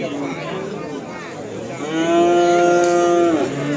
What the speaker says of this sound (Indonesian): Ini untuk jumlah sapinya juga banyak, padat